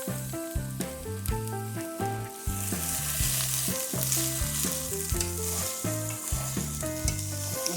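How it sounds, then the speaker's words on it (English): Pepper and onion sizzle steadily in an oiled pan while cooking down for eggplant fritters, a constant frying hiss running under prominent background music. "pepper and onion to the mix here. Let that cook down"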